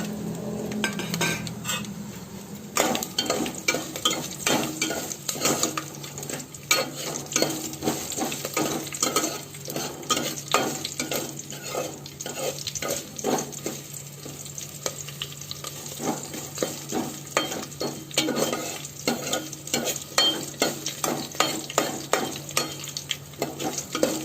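Garlic and green chillies frying in a pan for ridge gourd chutney, a continuous loud sizzle under dense, rapid clinks and scrapes of a spoon stirring against metal.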